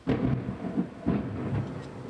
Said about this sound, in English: Flashes of lightning, cracks of thunder.